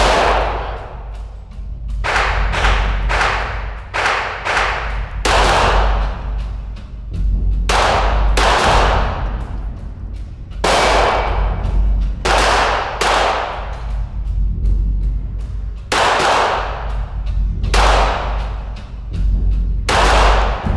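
A .22 caliber firearm shot at an Oslo shooting center, with about fifteen sharp, loud reports spaced irregularly across the stretch. Some come in quick pairs and others after short pauses, with no talking.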